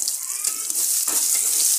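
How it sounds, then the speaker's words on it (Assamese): Onions and bay leaves drop into hot oil left from frying catfish, giving a steady, close, hissing sizzle with brief crackling spits throughout. "এতিয়া মই মাছ ফ্ৰাই কৰা তেলতে পিঁয়াজ কেইটা আৰু তেজপাত কেইখিলা দি দিম।"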